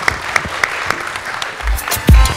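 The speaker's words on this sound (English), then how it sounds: "Let's welcome Prasad with a big round of applause as well." Applause at a business panel discussion welcoming a guest, scattered clapping from a modest audience with voices and a thump near the end.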